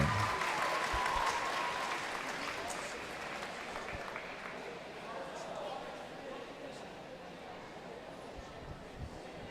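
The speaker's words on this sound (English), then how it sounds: "another round of applause for all of your finalists from the girls' 200-yard freestyle" A crowd at a high school district swim meet applauds the girls' 200-yard freestyle finalists in a reverberant pool hall, with sustained clapping that slowly thins while an announcer talks over it.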